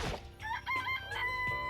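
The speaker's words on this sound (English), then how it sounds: "Every time you get the cock-a-doodle-doo sound, beautiful" A chicken crows cock-a-doodle-doo in the video game Danganronpa, a single loud, close rooster call with a sharp start and stretched, wavering notes.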